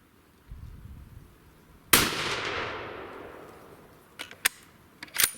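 A single sharp rifle shot cracks loud and close on an outdoor shooting range, its report trailing off over a couple of seconds, followed by a few faint clicks.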